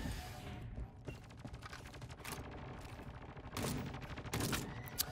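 Rapid pistol fire from the video game Project Nova, a steady rattle of quick shots with a few louder bursts, fairly faint in the mix and without talk.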